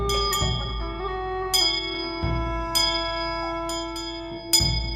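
Bell sound effect ringing in a series of bright metallic strikes, about seven in five seconds at an uneven pace, each tone lingering and overlapping the next with long resonant sustain, no voices present.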